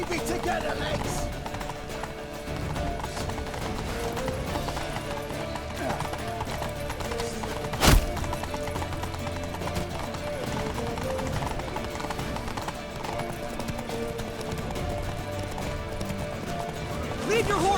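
Horses gallop through a city in The Witcher 3, their hooves clip-clopping in a steady, fast rhythm over game music and battle ambience, with a single sharp impact midway.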